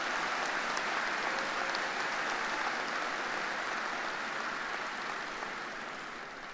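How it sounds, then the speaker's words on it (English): Sustained applause from a high school commencement crowd for graduating academic scholars, dense and steady throughout before tapering slightly at the end, with no voices over it. "Let's give these academic scholars one more round of applause."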